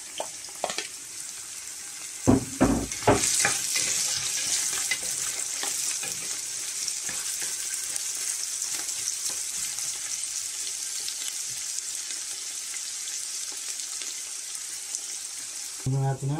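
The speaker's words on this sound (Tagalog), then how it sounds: "So, lagyan natin ng sibuyas." Sliced white and red onions hit hot oil in a pan for crispy dinuguan, giving a steady bright sizzle with clattering stirs early on, while a voice speaks faintly in the background.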